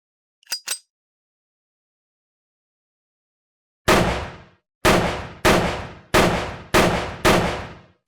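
Six sharp gunshots at a shooting target in a drama ring out in an uneven sequence after a long silence, each a loud crack with a short decaying tail, preceded by two faint clicks.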